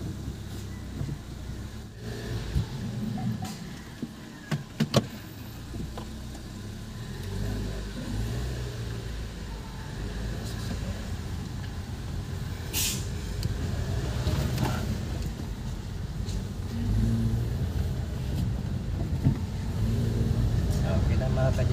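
An idling car with an automatic transmission, repaired after having no reverse, hums steadily nearby and then backs up, its engine rising slightly, while someone talks over it.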